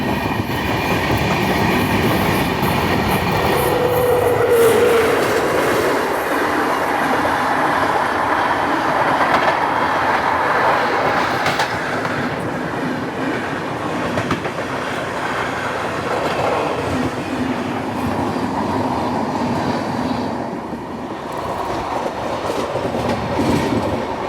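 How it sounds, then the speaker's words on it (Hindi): Kalinga Utkal Express crossing on South Eastern Railway track, heard from aboard a passing train: a loud, steady rumble of wheels and carriages with clickety-clack and brief squeals, continuous throughout with no talking. "क्रॉसिंग पूरी योगनगरी ऋषिकेश कलिंग उत्कल एक्सप्रेस"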